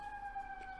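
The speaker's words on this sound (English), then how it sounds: "sorry about the siren if it's being picked up" A siren wails in a steady, high tone, moderately distant and continuous through the short stretch.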